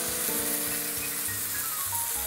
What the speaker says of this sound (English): We got a nice sizzle going.